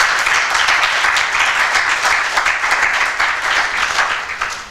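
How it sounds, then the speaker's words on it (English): Steady, full applause from an audience welcoming a panel of speakers at an environmental justice conference, continuous and fairly loud with no talking. "if we can just go ahead and give them a round of applause."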